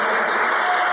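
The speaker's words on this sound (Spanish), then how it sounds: "¿Cuántos le dan un aplauso al Señor?" A church congregation applauds during an evening service, dense steady clapping filling the whole moment at close, even loudness with no voices over it.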